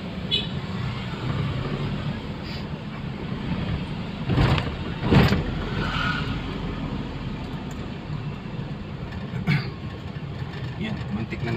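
Street traffic passes in the open, cars rolling by at a steady roar with a couple of louder vehicles swelling close around the middle; a voice talks over the noise at times.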